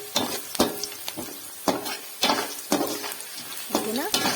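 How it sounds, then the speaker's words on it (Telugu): Onions fry in a pan for an okra curry, with sharp, regular spatula scrapes and clanks over a bright, crackling sizzle close by. "ఫ్రై అయిపోయింది ఆనియన్స్"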